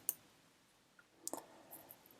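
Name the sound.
mouse click on the search button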